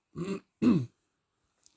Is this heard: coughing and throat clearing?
yes